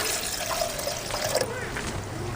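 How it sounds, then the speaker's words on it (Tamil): Water poured over tamarind soaking in a bowl for spicy kara chutney, a steady close trickle and gentle splashing running throughout. "தண்ணி ஊற்றிக்கலாம்."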